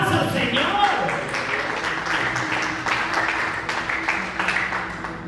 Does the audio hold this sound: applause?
yes